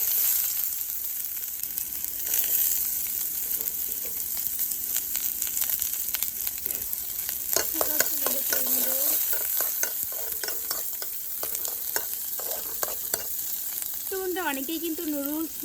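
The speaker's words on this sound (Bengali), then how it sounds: "তো এখন যে সবজিটা রেখেছি ওই সবজিটা ভেজে নেব।" Chopped onion sizzles in hot oil in a wok, stirred with repeated scraping strokes over a continuous loud frying hiss, with faint voices in the background.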